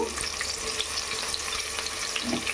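Ginger garlic paste frying in a pan with whole spices for a homemade pulao, a continuous bright sizzle and spatter heard up close with occasional stirring.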